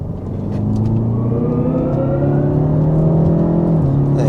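A BMW 330e Touring hybrid's B48 engine hums from inside the cabin while downshifting, pitch rising and falling through gear changes, steady and fairly loud.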